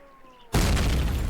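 A grenade explodes in the Call of Duty video game, a sudden loud broadband blast after a quiet stretch, then a sustained roaring rumble with debris as it fades.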